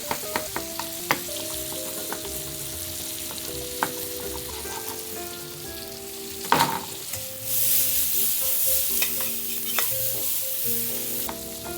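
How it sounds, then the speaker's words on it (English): Tomatoes sear in a pan with capers and chopped garlic: light clinks and a sudden clatter give way to a rising, sustained sizzle in the second half, with soft background music underneath. "let's sear these tomatoes. We're gonna add the capers"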